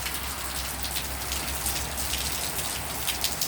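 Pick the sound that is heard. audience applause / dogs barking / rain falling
rain falling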